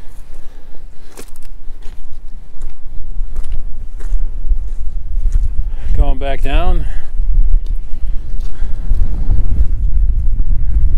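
Strong wind buffets the microphone on an exposed mountain top, a steady low roar that runs throughout at close range, while a person speaks briefly in the middle.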